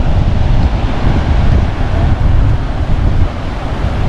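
Surf rolls in steadily at Praia do Rosa beach in Santa Catarina, with wind buffeting the microphone in a loud, continuous roar of breaking waves and gusts.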